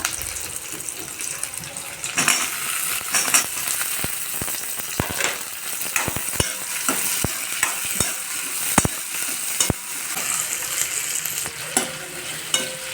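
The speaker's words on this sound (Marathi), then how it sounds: "आता आपण याला चांगला फ्राय करून घेणार आहोत. आता आपण यात टोमॅटो टाकून घेऊया." Tomatoes hit a hot pan and fry for restaurant-style matar paneer. An even crackling sizzle carries a string of sharp spatula scrapes and clicks against the pan, close up, with no talking.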